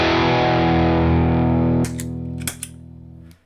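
Electric guitar played through Soul Food overdrive and Glove distortion pedals, a loud sustained driven chord ringing and slowly decaying, then a few picked and muted strums toward the end.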